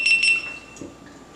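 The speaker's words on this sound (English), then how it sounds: "it made some beeping noises and it has turned on" GoPro Hero 11 camera powering on with a few quick, close, high-pitched electronic beeps, followed by quiet room tone.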